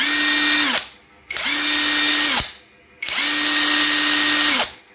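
A cordless impact wrench runs in three long bursts with a steady whirring motor, each cut off by short pauses, loud and close with no talk.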